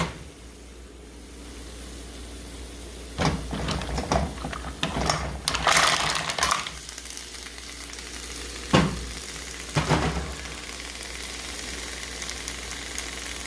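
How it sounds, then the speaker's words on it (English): Mussels tumble into a boiling pot of wine, several loud clattering bursts of shells knocking against metal over a steady bubbling hiss, with no talking. "Everything's boiling, so now it's time to add the mussels."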